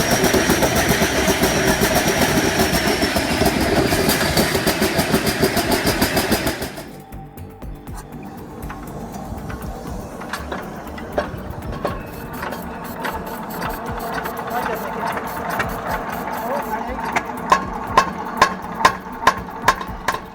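An old engine runs with a dense, rattling mechanical drone, then drops abruptly and settles into faster clattering firing beats that grow louder, with sharp regular knocks near the end, close and alone.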